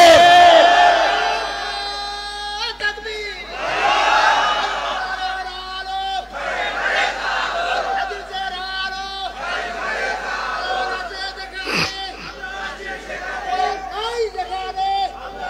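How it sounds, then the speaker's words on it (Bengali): A crowd at an Islamic sermon shouts the takbir chant in loud repeated waves, many voices roaring together in rhythmic call-and-response bursts across the gathering. "দুই হাত তুলে একবার তাকবীর দিয়ে দেখা"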